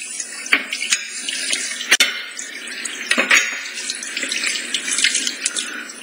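Tap water runs steadily into a sink during dishwashing, a continuous hiss and splash broken by a few sharp clinks of dishes, close and loud with no talking.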